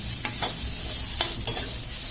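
Bitter gourd fries in a pan while being stirred, a loud, steady sizzle punctuated by several quick spatula scrapes against the metal, heard up close.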